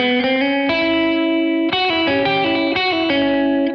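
Electric guitar plays a rockabilly riff built on the bebop scale, a run of single notes with chromatic passing tones, shaped by effects with slight distortion and chorus, loud and alone.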